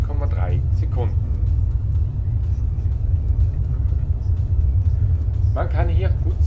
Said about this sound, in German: Man kann hier gut sehen, dass im Test klarerweise mit Eco Plus die Beschleunigung relativ langsam abläuft